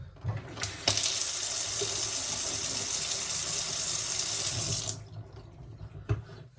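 Tap turned back on after plumbing work, with water gushing loudly and steadily into a sink for about four seconds before stopping, framed by a few knocks and handling sounds.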